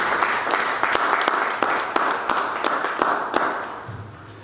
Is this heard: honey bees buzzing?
no